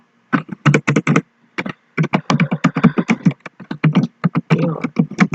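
Someone types on a computer keyboard in bursts of rapid, close clicking keystrokes with short pauses between groups.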